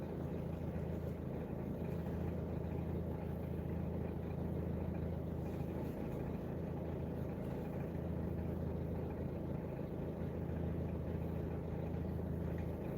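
A car engine left running sits idling, giving a steady low hum and rumble that holds unchanged throughout, moderately quiet and without any talking.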